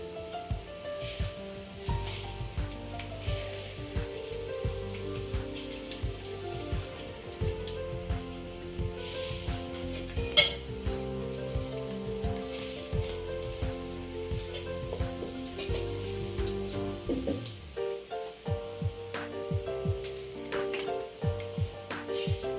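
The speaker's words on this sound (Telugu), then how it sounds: "ఆయిల్ వేడెక్కిందండి. ఇది తాళం గింజలు ఏమవుద్ది. దీంట్లో కొంచెం జీలకర్ర వేసుకుందాం." Cumin seeds hit hot oil in a pan and sizzle in a soft, steady crackling hiss that runs under louder background music throughout.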